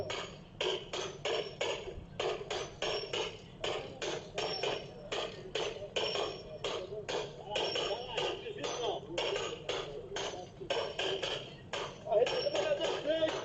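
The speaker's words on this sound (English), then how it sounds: "these Chinese workers who are hammering a pole into the ground" Workers' heavy hammer blows drive a pole into the ground in a fast, steady rhythm, dozens of evenly spaced metallic thuds with faint voices beneath.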